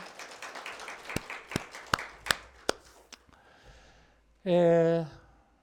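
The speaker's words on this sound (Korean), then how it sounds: "이번 주에 성경 천도하신 분 이창환 집사님, 강원숙 권사님 박수로 격려하겠습니다" Scattered hand claps ring out in a church congregation, a handful of sharp, separate claps spaced across a few seconds in a quiet room, followed by a brief sustained voice.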